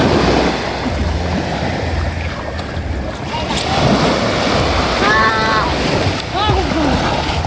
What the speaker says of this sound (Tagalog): nandito po kami sa tabing dagat.